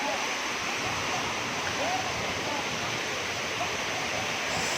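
Steady, loud rush of falling water at the base of Tada (Ubbalamadugu) Falls fills the whole clip, a dense continuous roar close by.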